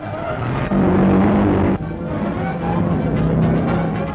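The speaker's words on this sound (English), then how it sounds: "Powered with outboard motors or small racing engines, they are fast and hot" Midget racing car engines, some powered by outboard motors, roar and whine loudly as cars speed past at a 1930s race, a dense, continuous mechanical din with shifting pitches.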